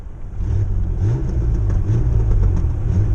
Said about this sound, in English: Now I've got a computer that won't idle the truck